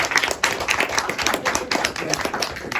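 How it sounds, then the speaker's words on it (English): An audience claps for a guest being introduced at an album listening-series event, with dense, steady applause filling the whole stretch at moderate level and no break. "give him a round of applause"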